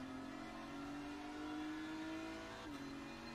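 Steady, fairly quiet engine drone of a Lamborghini race car in a sim racing game at Spa-Francorchamps, holding an even pitch with a brief shift near the end and no speech.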